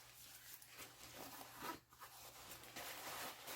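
The zipper on an Adidas windbreaker jacket is worked, giving faint close rasping slides with a few brief louder pulls and quiet gaps between.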